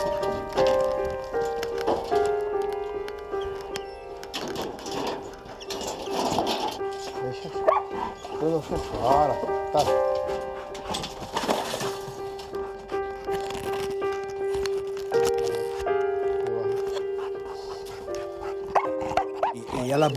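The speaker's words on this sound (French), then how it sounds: "à l'aboiement du chien" A search-and-rescue dog at earthquake rubble gives repeated barks among people talking, with other tonal background sounds and a brief spoken word.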